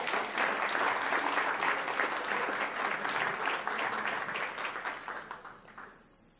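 An audience at a Palm Beach County school district ceremony applauds an Outstanding School Employee of the Year award recipient, a full, even round of clapping that holds steady and then fades out near the end.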